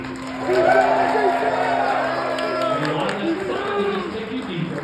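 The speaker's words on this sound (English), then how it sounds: "audience, cheer as loud as you can" A comedy hypnosis show audience cheers and yells loudly together, a dense swell of raised voices that holds strong throughout.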